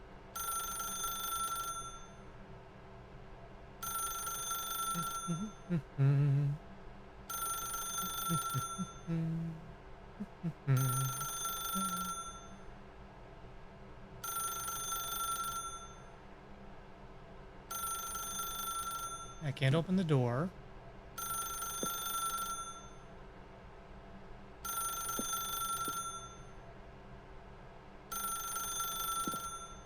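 A telephone rings in the video game S.P.U.D., a parody of The Stanley Parable: repeated electronic bell bursts in a steady on-off rhythm, with someone talking briefly between the rings.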